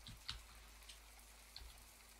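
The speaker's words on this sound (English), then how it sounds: "I know it's raining" Rain falls in the farming game My Time at Portia as a quiet, sparse patter with a few distinct drip-like ticks over a low steady ambient hum.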